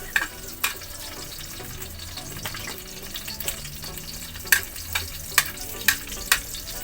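Food fries in a wok over a wood fire with a continuous sizzle, punctuated by sharp clacks and scrapes of stirring that grow more frequent toward the end.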